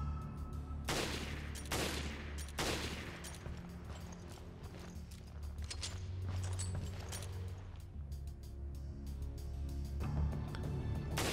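Guns fire at a Guardian Tricorn in Resident Evil: Revelations Raid Mode, with several sharp, loud bursts of shots spaced across the clip over a low rumbling game background.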